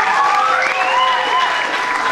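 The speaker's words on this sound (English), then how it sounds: "Can we give our contestants a big round of applause?" Audience applause for contestants at a church Christmas musical event, a dense, continuous wash of clapping filling the room at even loudness, with a faint voice or tone riding over it.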